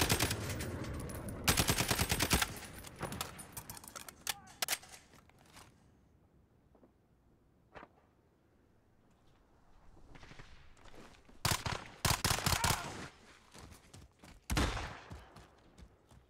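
An automated gun turret fires in the Call of Duty Modern Warfare video game, rattling out loud bursts of rapid shots separated by quieter stretches with scattered single clicks and steps.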